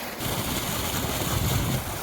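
Water gushes steadily from the pipeline of a 7.5 hp vertical openwell motor on a farm, a loud, continuous rushing roar heard close up without speech.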